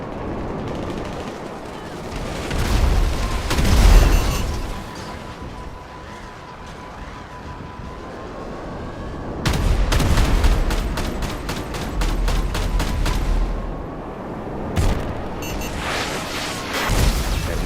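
Missile strike and explosions during aerial combat in GTA Online, with heavy booming blasts and rapid rattling fire over a continuous engine-like drone, loud and close throughout.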